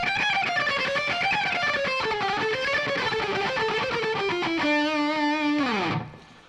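A distorted electric guitar runs a fast major scale sequence, notes climbing and falling in quick succession before a held bend near the end, then a sudden stop; loud and close, no voices.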